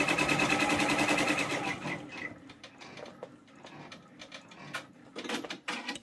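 An embroidery machine stitches an OESD tiling scene in a fast, loud mechanical chatter, then stops and leaves scattered clicks and light handling noises.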